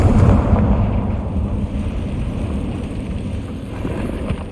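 A Confringo blasting spell detonates in Hogwarts Legacy, a heavy, rumbling explosion that hits loud at the start, then rolls and slowly fades into a long, low, noisy tail.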